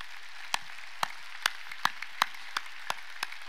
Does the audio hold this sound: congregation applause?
yes